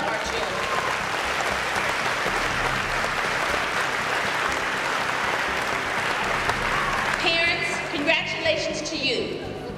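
A sustained round of applause fills an auditorium at a school awards ceremony. The clapping is steady and dense, and near the end it thins as a voice begins speaking.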